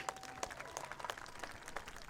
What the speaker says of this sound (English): Let's have one more round of applause for our 2020 Players of the Week.